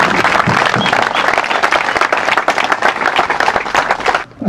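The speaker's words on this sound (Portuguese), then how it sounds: "Para eles, os nossos agradecimentos na forma de uma grande salva de palmas." A crowd at a tribute ceremony bursts into a big round of applause, dense and loud, continuous clapping close by for about four seconds before it quickly trails off.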